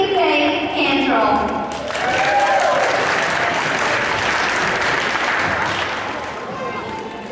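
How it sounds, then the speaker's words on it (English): Audience applause for a child pageant contestant during a Little Miss competition, steady clapping sustained throughout under an announcer's voice, with whoops and cheers from the crowd. "Big round of applause for contestant number 17, Ansley Faye Cantrell."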